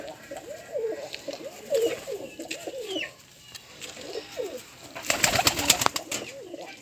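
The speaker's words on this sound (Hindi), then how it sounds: "ये मेरा कबूतर है।" Pigeons coo in soft, repeated rolling calls close by, followed by a brief burst of fluttering wings.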